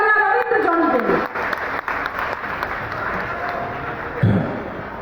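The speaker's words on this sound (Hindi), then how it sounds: "तो जोरदार तालियां" Audience applause at a cultural festival in Sitamarhi, a dense, steady patter of many hands clapping, with a voice briefly over the start and a louder burst near the end.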